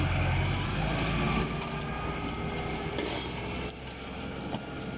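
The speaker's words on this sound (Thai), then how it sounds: "จะพามาชม เครื่องตัดหญ้านะครับ แบบใช้รถไถครับ ใช้รถไถตัดเอาครับ" A tractor engine drives a rear-mounted roadside grass cutter, a steady loud mechanical drone with grinding, crunching texture that dips slightly partway through, no talking over it.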